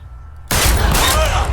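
A sudden, loud gunshot blast in the L.A. Noire video game's hostage scene breaks a near-silent moment, followed by a dense roaring burst of sustained gunfire.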